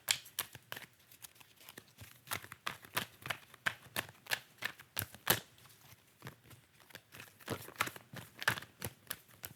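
Tarot cards being shuffled to draw a single advice card, heard as a close run of crisp, irregular card flicks and riffles with small pauses between bursts, alone without any talking.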